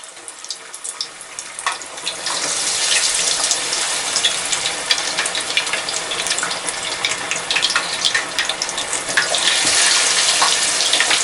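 Fish pieces deep-frying in oil at 350 degrees make a steady, loud bubbling hiss with scattered crackles, intensifying after the first seconds and staying continuous without talk.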